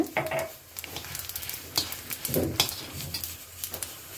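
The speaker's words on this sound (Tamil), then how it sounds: "கருவேப்பிலை, அதுக்கப்புறமா தேங்காய், ஜீரகம் எல்லா சாமானும் கலகலான்னு சவுண்டு வருது பாருங்கள்" Curry leaves, grated coconut and cumin seeds dry-roasting in a pan give a soft, continuous rattling crackle with scattered sharper pops and light stirring scrapes, fairly quiet and close, with no talking.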